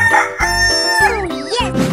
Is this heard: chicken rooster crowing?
yes